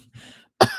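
A reader performing a cough during a story: a soft breathy choke, then a short pause and one sharp, close cough burst.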